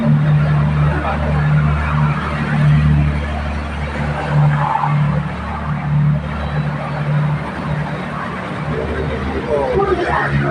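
A BTS Skytrain Silom Line train moves at platform 3 of Saphan Taksin station, giving a steady loud rumble and wheel screech with a rising and falling hum, while a murmur of voices sits under it throughout.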